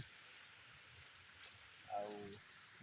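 Steady rain hisses down outdoors as a broad, continuous wash, with a brief tonal sound briefly rising above it near the end.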